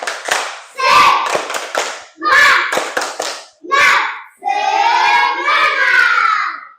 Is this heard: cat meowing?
no